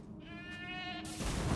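A goat bleats in the video game Elden Ring, one drawn-out quavering call up close and alone, followed by a sudden burst of broadband noise near the end.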